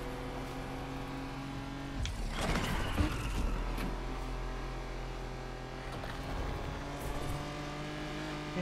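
A car engine in the racing video game Need for Speed Unbound holds a steady drone, then surges and revs harder around the race start, with clattering mechanical noise before settling back to a sustained hum.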